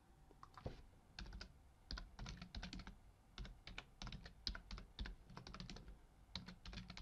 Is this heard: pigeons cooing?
no